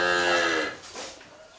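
A dairy cow on a small family farm gives a single loud, drawn-out moo that fades out after about a second, followed by quieter ambient farm sound.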